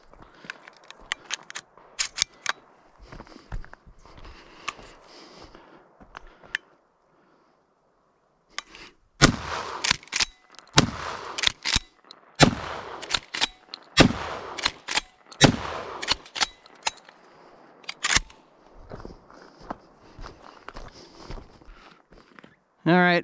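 A sawed-off 20 gauge shotgun fires a string of sharp, loud blasts at irregular intervals, mixed with handling clicks and shuffling, while people talk nearby between shots.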